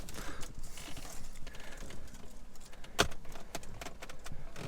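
The original key of a car at a Copart salvage lot jingles and clicks as it is handled inside the vehicle, with light rustling and one sharp metallic tap, close and fairly quiet.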